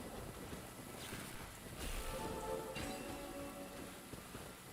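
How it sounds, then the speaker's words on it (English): Heavy rain downpour in the video game Genshin Impact, a steady soft hiss of rainfall with a brief louder swell, no voices. "Quite a downpour. Nothing will get done until it clears."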